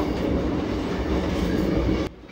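A Uganda Railway train rolls past close by in the city, a loud steady rumble with wheel clatter that cuts off abruptly near the end.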